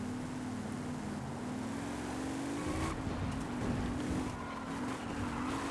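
A Lamborghini engine drones steadily while driving downhill on an icy winter road in the racing game Forza Horizon 5, a loud continuous hum with a rising pitch and a brief gear-shift dip.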